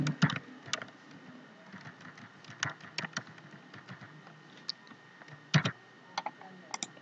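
Typing text on a computer keyboard, irregular bursts of light clicking keystrokes with short pauses between, close and moderately quiet.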